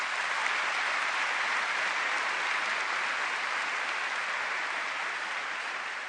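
An audience at a formal opening-night ceremony of a patriotic society's congress applauds in steady, dense clapping that fills the hall evenly and fades only slightly toward the end.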